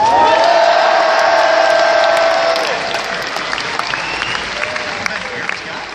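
A large crowd at the Gfinity 3 Call of Duty esports final cheers and applauds loudly, with whistles and shouts rising over the roar.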